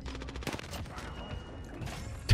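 Video game gunfire comes as rapid overlapping shots, a brief loud volley near the start, then lighter crackling that ends in one sharp close blast.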